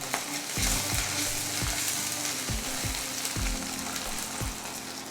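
Onions sizzle steadily in hot oil with turmeric and ginger-garlic paste for a cucumber curry, with a spoon scraping the pan in repeated low thuds while stirring.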